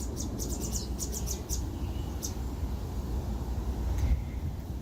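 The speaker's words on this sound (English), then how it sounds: "Let's listen to the birds." Birds sing in short bursts of high, quick chirps, fairly faint and outdoors, separated by gaps over a low, steady background hum.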